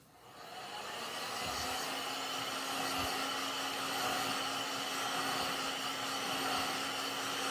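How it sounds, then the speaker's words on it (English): A hair dryer blows steadily on freshly applied craft paint on a Halloween ghost tombstone decoration, a loud continuous whir with a constant hum that starts up and holds through the whole stretch, with no talking. "let's dry it and see what it looks like"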